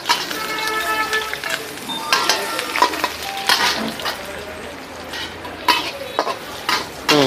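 Ghee sizzling in a pan for garlic sauce at a street-style barbecue cook, crackling close up under repeated metal scrapes and clatter of a utensil against the pan, with no one speaking.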